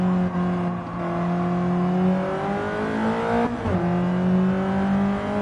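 A race car engine in Gran Turismo 7 holding a steady high-pitched drone, rising through the revs, dipping briefly with a gear change, then climbing again, loud and continuous with no voices.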